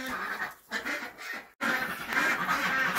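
Ducks kept with chickens in winter quack loudly and close by in rapid overlapping calls, with a brief drop in sound partway through before the quacking resumes.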